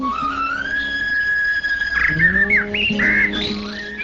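Birds chirp and whistle melodiously among flowering trees by a lake, with a steady sustained whistle followed by a rapid run of varied squawks and chirps, close and fairly loud.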